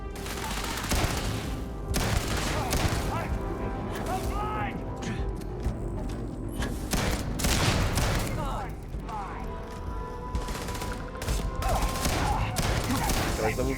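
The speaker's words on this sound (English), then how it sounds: "Grenade out!" Grenade blast and rapid gunfire in a firefight in the sci-fi game Starfield, loud close bursts of shots and booms repeating throughout under shouted voices.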